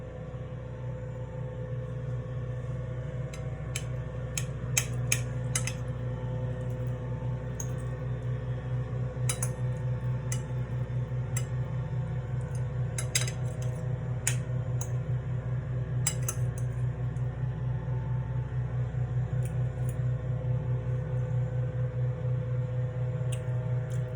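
Lasagna being plated in a home kitchen, with scattered light clinks of cutlery and dishes over a steady low hum, several quick bright taps clustered at moments, fairly faint.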